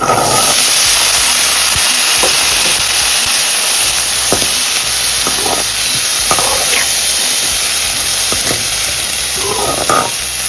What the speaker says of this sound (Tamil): வதங்கிட்டு நம்ம இந்த ஸ்டேஜில் நறுக்கி வச்ச பீன்ஸை இதோட சேர்த்துடலாம்